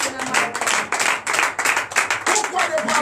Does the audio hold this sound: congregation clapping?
yes